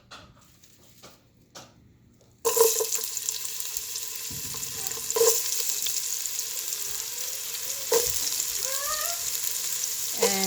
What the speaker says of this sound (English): I'm going to be adding my chopped onions to it.